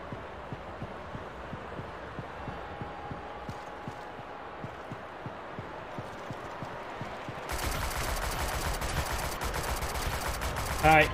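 Automatic weapon fire in the Shadowgun Legends PvP shooter, probably the Shadow AR rifle: steady, evenly spaced shots repeat throughout, then a louder, harsher burst of fire swells in near the end.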